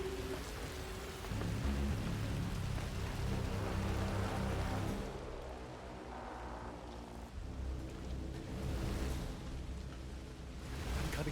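Steady rain falls in Hitman 3, a broad hiss that grows heavier and rougher after the first few seconds, with tonal sounds layered over it early on.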